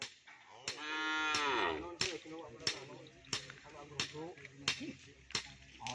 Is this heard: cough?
no